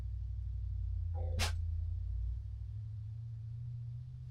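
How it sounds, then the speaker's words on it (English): A low engine rumble from a nearby car drones steadily, then eases off; a brief sharp sniff-like burst cuts in partway through. "I hear a car."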